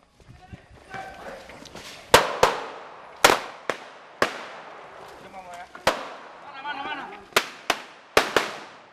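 Several sharp, loud police warning gunshots ring out at irregular intervals while a fleeing robbery suspect is surrounded, each with a short echoing tail, over faint background voices and movement.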